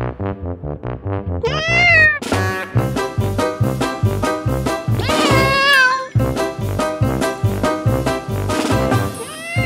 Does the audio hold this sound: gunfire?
no